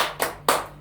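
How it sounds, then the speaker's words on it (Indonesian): Two sharp, near group claps about a quarter second apart, loud and unaccompanied, the rhythmic beats of a 'tepuk hebat' cheer at a family-development meeting. "Untuk kader inti, berikan tepuk hebat."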